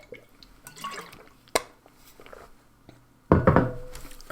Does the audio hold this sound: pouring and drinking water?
yes